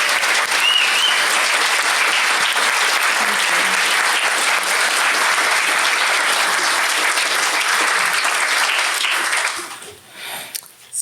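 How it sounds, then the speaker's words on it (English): A church congregation breaks into sustained, dense applause for the contributors to a Sunday music service, holding steady and loud for about nine seconds before it fades out at the end. "can we give a round of applause to all who contributed to today's music service?"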